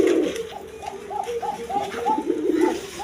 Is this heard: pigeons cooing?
yes